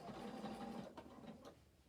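A sewing machine with a walking foot runs a triple stitch through denim, a quiet close whirring that runs steadily, pauses briefly, then resumes in short bursts before fading.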